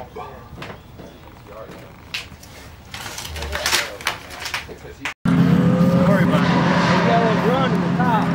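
A drifting race car: voices and scattered noises come first, then the engine abruptly bursts into a loud, sustained roar with squealing tires that holds to the end.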